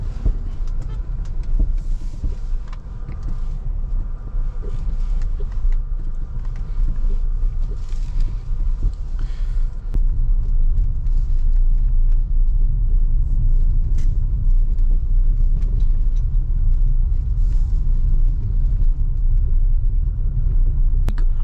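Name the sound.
MG ZS EV car driving over uneven rough surface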